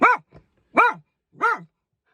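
A dog gives three sharp, evenly spaced barks, loud and close, with a short quiet gap after each and no talking.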